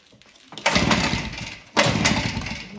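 Old Red Max EBZ7100 two-stroke backpack blower, primed with starting fluid, firing in two short sputtering bursts after quiet pull attempts, close and loud with a rough, revving engine note.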